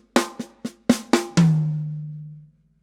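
A drum kit plays a short shuffle groove where a snare hit takes the place of a hi-hat note. Five crisp, close strikes in a swung rhythm end on a ringing, decaying drum hit, with no voices.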